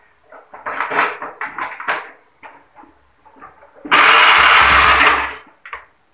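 Motorcycle electric starter cranking and firing the engine, preceded by short clattery handling noises, then a loud burst of about a second as the engine catches, ending abruptly.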